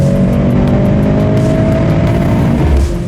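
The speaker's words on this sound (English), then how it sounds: "the Mercedes still manages to hit 60 in the twos" A Mercedes-AMG C63 S E Performance with a 9-speed gearbox accelerates hard, its engine note loud, close and continuous as it climbs steadily in pitch, with no voices.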